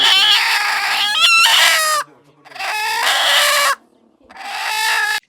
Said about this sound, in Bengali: এপাশে মুরগি দেখলাম বাচ্চা দেওয়ার জন্য ডিমে তা দিচ্ছে।